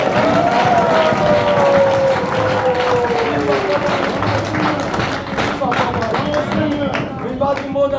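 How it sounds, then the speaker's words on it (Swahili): A church congregation at an Easter sermon in Lubumbashi claps and stirs, a dense rustle of applause running under a loud voice for the full stretch. "makofi"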